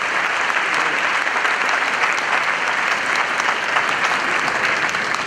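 Steady, dense applause from a debate audience fills the hall, sustained and fairly loud throughout with no voices on top.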